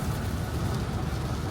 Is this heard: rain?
yes